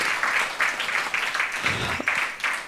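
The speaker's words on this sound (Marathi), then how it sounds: "त्यामुळे एकदा जोरदार टाळ्या आपण त्यांच्यासाठी वाजवूयात." An audience at a launch event gives a sponsor's chairman strong, rhythmic applause, a steady wave of clapping with a brief thump partway through.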